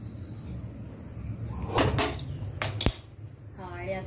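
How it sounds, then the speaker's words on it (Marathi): A kadhai of river fish curry from the Konkan is set down on a gas stove with a couple of sharp metallic clanks and scrapes amid quiet kitchen background noise. "आणि आता ही कढई आपण गॅसवर ठेवणार आहोत."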